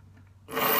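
A hand file rasps across the teeth of a rip-cut saw being sharpened, a single loud, bright stroke arriving suddenly after a quiet, faintly humming start.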